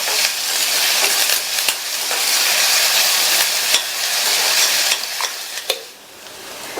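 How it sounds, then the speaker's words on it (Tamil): Onions sauté in a pan for mushroom gravy, giving a loud, steady sizzle with repeated stirring scrapes of the spatula throughout, close and without talk. "வெங்காயத்தை இந்த அளவுக்கு வதக்கிட்டு"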